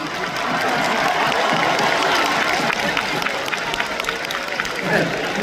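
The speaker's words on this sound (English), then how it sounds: "Round of applause for you guys." A large concert crowd at a show in Singapore applauds and cheers, a dense, steady wash of clapping and crowd noise sustained throughout.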